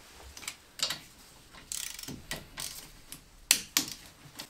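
A torque wrench tightens 7mm hex-key bolts on the front suspension strut of a BMW MINI Cooper R50. It makes close, bursty mechanical ratcheting clicks in short irregular runs, alone with no voice.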